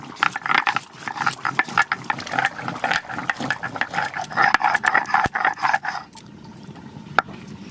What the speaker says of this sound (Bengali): গরম মশলাটা বেটে নেবো।